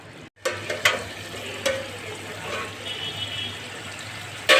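Mutton liver cooks in a pan as water is poured in, giving a steady sizzle and bubbling with a few sharp splashes and stirring scrapes, close and fairly loud throughout.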